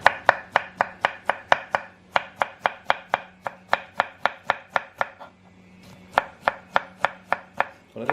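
Knife slicing through pineapple on a cutting board, a brisk steady run of sharp chopping knocks, about three per second, close and clear with a brief pause midway and no talk.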